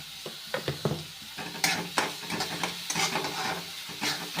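Onion sautéing in a pan for a soybean vegetable dish, with a soft steady sizzle under repeated stirring scrapes and clinks of a spoon against the pan, close and alone.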